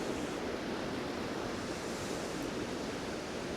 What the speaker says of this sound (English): Some rushing water.